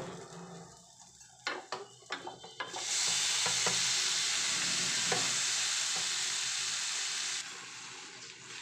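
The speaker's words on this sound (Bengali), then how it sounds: "এইভাবে সমস্ত মশলাগুলোর সঙ্গে আমি ডালগুলোকে ভালোভাবে নেড়ে চেড়ে নিচ্ছি" Boiled dal being stirred with spices and oil in a pan, first several clanking spoon strokes, then a sudden loud steady sizzle that holds and eases off toward the end.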